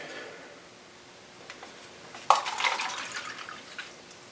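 Water splashes and pours into a container after a quiet stretch, a bright burst followed by a steady trickling that fades out.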